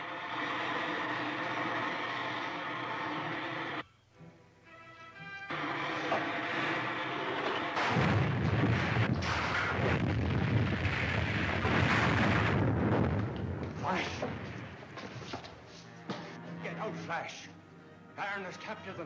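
A powerhouse is bombed in the Flash Gordon's Trip to Mars film serial, with a heavy rumbling explosion that swells loudly through the middle. Voices and softer sounds come before and after it.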